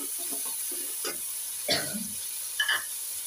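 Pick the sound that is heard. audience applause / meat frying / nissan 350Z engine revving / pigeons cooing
meat frying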